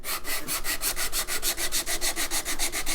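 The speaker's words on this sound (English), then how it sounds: "instead of just sanding in this direction, I just" Rhythmic back-and-forth rubbing of sandpaper on the wooden edge of a thin electric guitar body, steady and close, repeating about six strokes per second with no talking.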